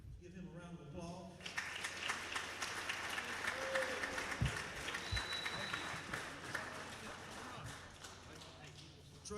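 Crowd applause and cheering fill a gym as a senior athlete is recognized before a school game, a steady roar of clapping that builds after a quiet start and holds to the end, with voices mixed in.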